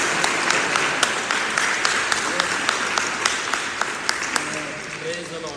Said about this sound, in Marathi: एकदा जोरदार टाळ्या वाजवून परमेश्वराला धन्यवाद देऊया.